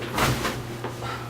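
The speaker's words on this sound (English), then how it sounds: "This is the door." A cell door in an abandoned prison is opened, giving a short scraping creak with a couple of soft knocks, fairly close and quiet.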